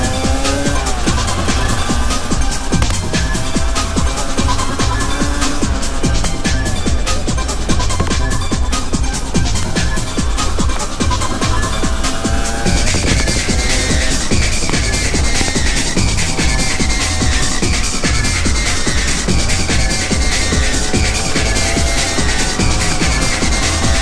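A Rieju MR300 two-stroke motorcycle on Michelin Anakee Wild tyres rides on asphalt, with a loud, continuous, buzzing engine whine and tyre noise that holds throughout, close to the microphone.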